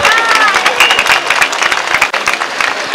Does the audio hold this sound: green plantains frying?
no